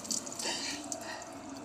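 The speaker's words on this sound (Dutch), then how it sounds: "Nog even koelen onder de kraan" Water runs from a kitchen tap in a soft, steady trickle, faint and close, with small splashes and drips as something is cooled under the stream.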